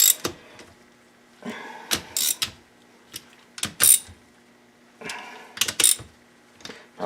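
A ratchet tightening engine case bolts on a 2010 M8 engine, quick clicking bursts repeated in short runs with brief pauses between them, close and clear in a quiet space.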